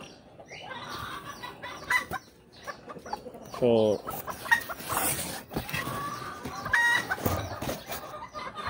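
Bantam chickens cluck and murmur nearby amid farmyard noise, with a brief voice speaking partway through.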